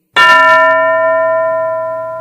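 A single bell struck once in a classroom, a bright clear clang that rings on with a long, slowly fading tone, loud and alone.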